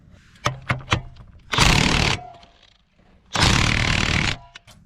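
On a Nissan S13 240SX, an impact wrench pulls a wheel stud through a swapped Z32 rear hub. A few sharp metallic taps come first, then two loud, rattling bursts of about a second each, close by.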